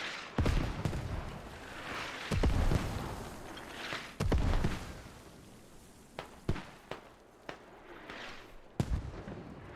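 Mortar rounds and explosions in a Squad esports tournament match, a series of sharp distant booms and cracks spaced irregularly, several louder blasts standing out from a low background rumble.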